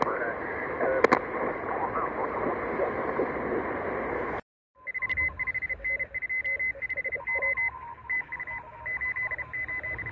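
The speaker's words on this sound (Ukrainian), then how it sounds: "Азбука Морзе." Morse code signal picked up on a Grundig Satellit 500 shortwave radio, steady keyed tone bursts in irregular dot-dash rhythm over hiss, following a loud burst of static and a brief tuning gap.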